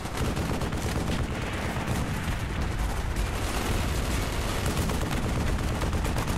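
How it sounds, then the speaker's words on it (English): A big gun fires nonstop in Call of Duty: Black Ops, a dense unbroken barrage of heavy automatic gunfire and booming blasts that fills every moment at steady loudness. "Ooh, that's a big gun."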